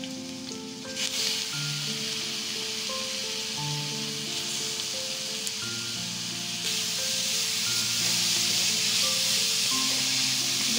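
Grated beetroot sizzling in a hot pan with chopped green chilli for a vegetarian beet dish, a steady bright hiss of frying that swells slightly louder partway through, close, with faint tonal music underneath.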